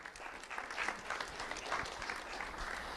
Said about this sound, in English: Round of applause for Ryan Francis